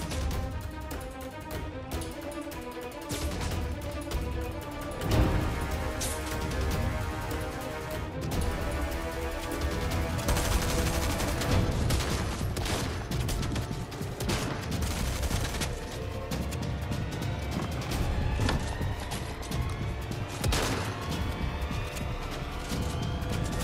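Rapid shotgun blasts and submachine-gun fire in the battle game Fortnite, dense cracking volleys over continuous game music and building clatter, loud and close for over twenty seconds.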